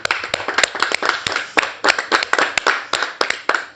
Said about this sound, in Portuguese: Vamos aplaudir Jesus também